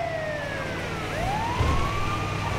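Ambulance siren wails in Grand Theft Auto V, a rising and falling electronic tone sweeping continuously over a low rumble of traffic, moderately loud and steady with no voices.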